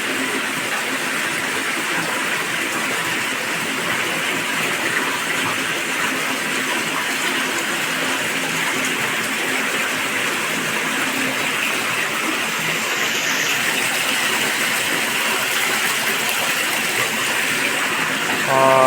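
Water gushes steadily from a roughly two-hundred-foot side borewell on a farm, a loud, continuous broadband rush that runs unbroken throughout with no break in the flow.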